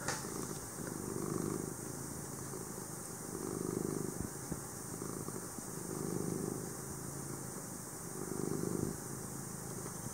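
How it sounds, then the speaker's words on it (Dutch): A cat purrs close by, a steady low rumble swelling and easing in a slow, even rhythm of breaths, with no talking. "Hij spint ook zo lekker."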